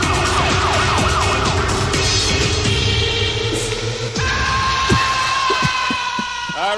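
Siren samples from a keyboard in a song play over a dense musical mix, with wailing rising and falling tones that sweep repeatedly against a loud backing.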